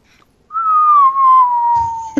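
A person whistles one long, shrill, piercing note that glides slightly downward, loud and close. The whistle is heard on its own, with no talking over it, and ends in a short click.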